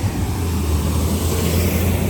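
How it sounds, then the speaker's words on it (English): A loud, low rumbling roar of a heavy truck going past nearby, steady engine and road noise throughout with no voices. "ooh, that truck was loud."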